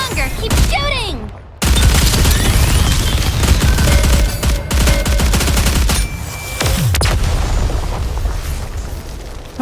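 Heavy sustained gunfire from the Nikke video game, with dense rapid bursts and booming impacts filling the whole stretch, briefly dropping out near the start before roaring back loud and continuous.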